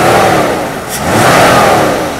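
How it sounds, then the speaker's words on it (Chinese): A warmed-up Mercedes-Benz W126 300SEL engine, recently serviced with a new fuel accumulator, revs up strongly, dips briefly and climbs again in a loud close mid-pitched roar, alone without talk. "大哥来试一下拉转速"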